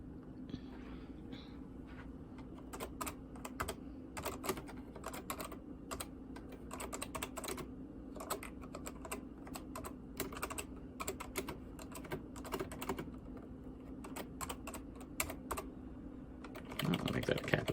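Typing on the keyboard of a Tandy 4825 SX computer, a steady run of close, crisp key clicks with short pauses, over a constant low machine hum.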